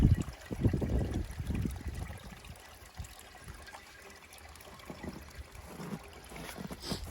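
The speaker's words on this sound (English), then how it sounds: "Water will start flowing out of the filter pump" Water trickles and splashes out of the drain plugs on a pool filter pump, a soft steady running flow with a few louder gushes at the start and near the end.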